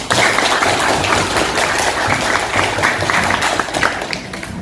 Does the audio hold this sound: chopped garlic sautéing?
no